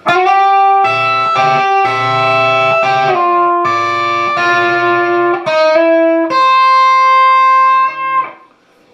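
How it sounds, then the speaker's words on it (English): An electric guitar plays the first outro lick of a song slowly, a loud, distorted run of sustained, bent single notes that rings alone and fades at the end. "that's the first outro lick"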